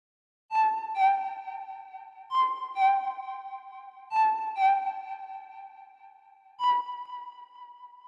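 A Nexus single-layer lead synth patch, Attack Lead 3, plays a sparse counter melody of bright, plucky notes in short pairs with ringing sustain, clean and alone.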